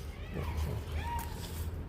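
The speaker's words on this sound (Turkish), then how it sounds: "Burada kediler var." A cat meows a couple of times, close and fairly soft, with light background noise and some faint human sound.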